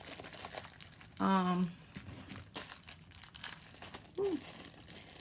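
Paper crinkles and rustles as it is handled while dry beans are set aside for storage, a steady soft crackle running throughout with a voice briefly speaking over it.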